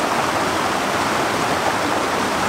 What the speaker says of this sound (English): I literally can just watch the river, listen to the forest